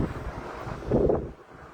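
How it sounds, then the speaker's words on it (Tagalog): Steady wind buffeting the microphone, a low rumbling roar that swells briefly in the middle, with no voices. "Ang sarap ng hangin dito."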